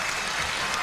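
Applause from a basketball crowd at a 1995 CBA semi-final between Frankston and Rockhampton, a steady broadband clapping wash that holds evenly throughout.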